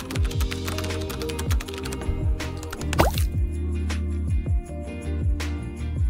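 A unique handmade keyboard, crafted with a 3D pen, hot glue and resin, is typed on with a rapid run of clicky, slightly wet-sounding taps, set against a busy layered backing track.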